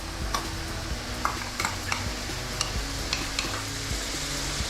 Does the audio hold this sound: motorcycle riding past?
no